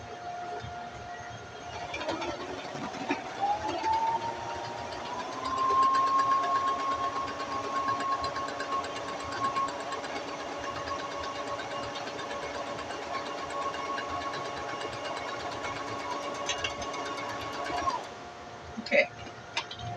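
A sewing machine stitches along a line of fabric while making an ice pack, a steady mechanical whir that speeds up and holds a buzzing drone for most of the stretch before stopping near the end.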